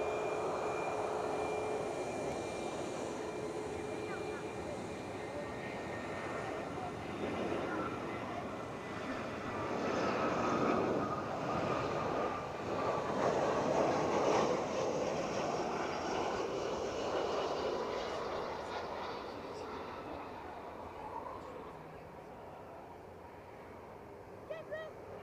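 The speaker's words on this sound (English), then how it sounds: "An EasyJet inbound. And that EasyJet is from Madrid." An EasyJet airliner inbound from Madrid at Edinburgh Airport produces a long jet engine roar that builds toward a peak midway, then fades and thins as it passes.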